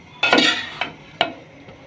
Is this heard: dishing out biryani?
yes